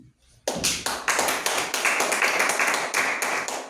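A church congregation claps together in acclaim of Jesus, a loud, dense burst of steady rhythmic applause that starts abruptly after a brief quiet moment and continues throughout.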